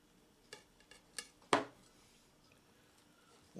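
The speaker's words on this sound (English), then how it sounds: "Real quick cut. Nice sharp knife." A sharp knife slices straight down through a warm Reuben sandwich, giving a few light crunching taps and one firmer chop as the blade meets the board, close and fairly quiet.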